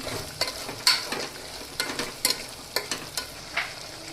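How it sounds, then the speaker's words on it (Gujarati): Potatoes fry in oil with salt and spices, a steady sizzle under a string of distinct spatula scrapes and taps against the pan that recur every half second or so. Close and clear, with no voices. "પછી થોડી વાર આપણે તેને તેલમાં ચડવા દઈશું"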